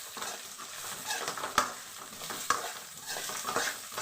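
Beans and garlic sauté in a pan until browned, a soft continuous sizzle with stirring scrapes and a couple of sharp utensil clicks against the pan, close and with no voices.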